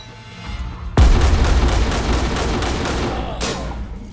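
Flashbang and gunfire in the tactical shooter Ready or Not: a sudden loud blast hits and is followed by a dense, sustained roar of rapid gunfire, with a second sharp burst near the end.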